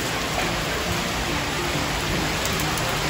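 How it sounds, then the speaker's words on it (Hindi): Steady rain falling on a Sunday morning, a dense, even hiss of water holding at one level from start to end with no voices over it. "ये देखो संडे की सुबह बारिश, तेज बारिश का नजारा"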